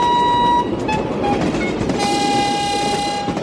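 A train pulls into a station as an audiobook sound effect: loud rumbling of rolling carriages with a long horn sounding twice, the second blast longer and brighter, heard alone without speech.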